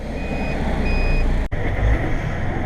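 A Kenworth logging truck rumbles past nearby, heavy low engine roar swelling toward the end, while a steady intermittent electronic beeping sounds early on.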